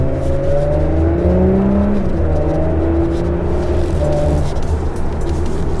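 An Audi A5 or S5 being driven hard, its engine giving a steady, loud drone with shifting tonal whine as revs rise and fall, continuous throughout with no talk.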